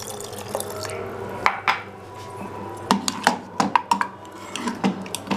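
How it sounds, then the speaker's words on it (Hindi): Water is poured into cooking dal in a pot, with soft liquid trickling and drips broken by sharp ladle and utensil clinks against the pan, moderately close and fairly quiet. "तो इसमें हम लोग थोड़ा सा पानी और डालेंगे"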